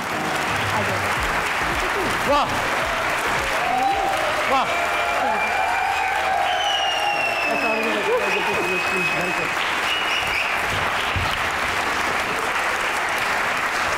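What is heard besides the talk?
studio audience applause welcoming guests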